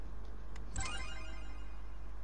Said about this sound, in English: Phone, Declan, there's a phone ringing.